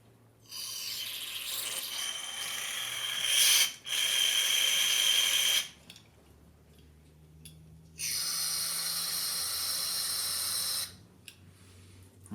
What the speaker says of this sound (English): I'm just blowing carburetor cleaner gently through all the ports that are here in both directions